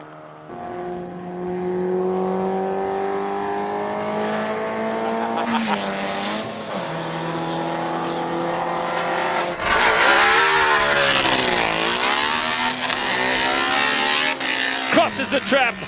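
A Lotus Type 7 replica single-seater race car climbs a hillclimb course, its engine rising in pitch through repeated gear changes, then roaring harder with sweeping revs near the end, all under continuous commentary.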